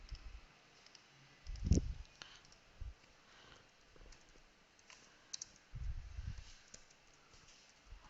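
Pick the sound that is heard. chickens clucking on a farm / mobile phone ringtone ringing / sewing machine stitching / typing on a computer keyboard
typing on a computer keyboard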